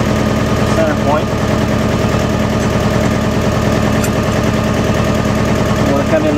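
A tractor engine idles steadily at a construction site, a continuous low rhythmic chugging throb that stays loud and close throughout with no break.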